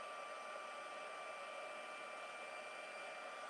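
A craft heat gun blowing hot air to set embossing, a steady, even, whooshing whine with a faint tonal hum, running continuously and quietly.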